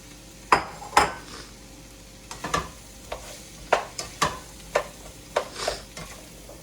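Potatoes fry in a pan with a soft sizzle, punctuated by a dozen or so sharp clinks and scrapes of a utensil against the pan at irregular intervals.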